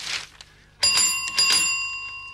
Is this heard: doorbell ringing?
yes